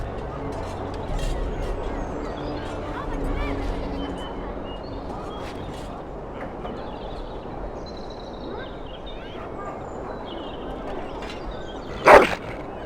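A dog barks and yips in Dragon Age Origins at Soldier's Peak, short calls over a busy game soundscape with a sharp loud burst near the end.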